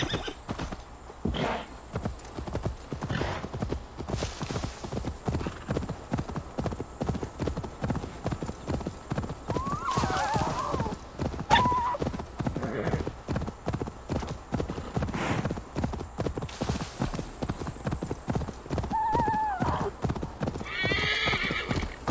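Steady, rapid clip-clop of horse hooves at a gallop in Assassin's Creed Valhalla, with a couple of sharp whinnies breaking in partway through, close and clear.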